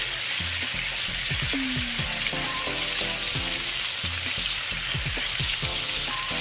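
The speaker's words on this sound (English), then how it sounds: "I've got it top side down to let it sear a little bit." Salmon fillets sear top side down in a hot pan, giving a loud, dense, continuous sizzle with crackling pops throughout.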